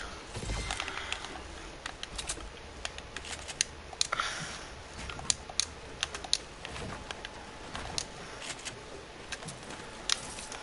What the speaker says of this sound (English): I'm pressing my keyboard right now